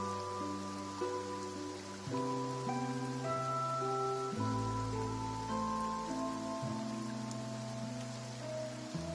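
Steady rain falling in Genshin Impact's Fontaine region, continuous hiss of drops beneath a layered musical score that carries throughout.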